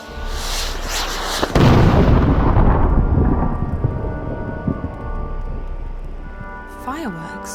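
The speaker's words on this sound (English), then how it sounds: "Fireworks? Maybe they're celebrating something." Fireworks in the video game Dreamfall: The Longest Journey, a loud booming burst that rumbles and slowly fades over several seconds, heard alone.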